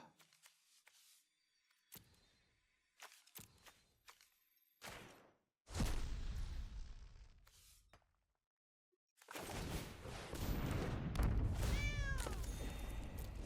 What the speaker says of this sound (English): I like how this thing meows.